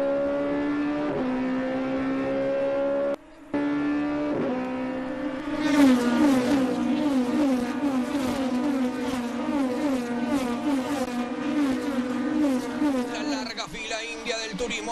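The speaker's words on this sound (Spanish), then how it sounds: "Grasso ya acelera en la salida de la chicana a bordo con Franetovic" Touring race cars of the Turismo Nacional Class 2 accelerating out of a chicane, engines revving hard and climbing through gears in loud, rising rasps, with a brief gap before the pack blasts past.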